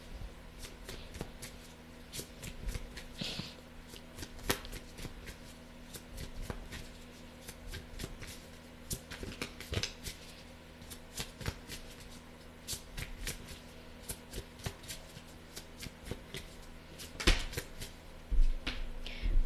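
Oracle cards are shuffled by hand in steady, crisp riffling bursts with frequent snaps and flutters, close and continuous for nearly twenty seconds in a quiet room.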